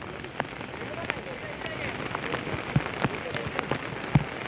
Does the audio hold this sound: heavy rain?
yes